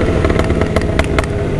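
A Honda CB1000 motorcycle fitted with a new quick shifter runs loud and close, its engine roaring under load with sharp popping bursts breaking through the steady drone.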